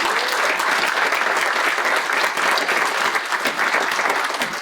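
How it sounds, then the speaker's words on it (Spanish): An audience at a philosophy conference breaks into applause, a dense, steady wash of clapping that stays loud for several seconds with no speech over it. "un aplauso para ustedes mismos"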